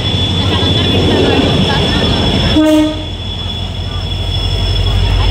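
A loud train rumbles close by, and a long blaring horn sounds midway before the heavy rolling noise carries on.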